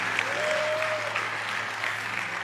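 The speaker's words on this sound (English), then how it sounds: "I think that deserves another round of applause." A crowd claps steadily during a sermon, a dense wash of applause that holds at an even level throughout.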